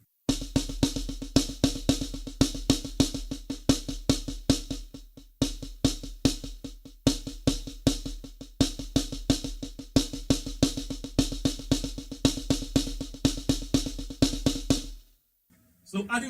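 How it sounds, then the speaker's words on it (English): Triple paradiddle rudiment played on a drum kit with kick drum added under the accents, a fast steady stream of sticking strokes with regular accented hits, close and loud, stopping abruptly near the end. "Triple paradiddle sounds something like this."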